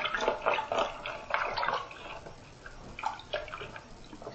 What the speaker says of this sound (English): And you also want to submerge the top in water too.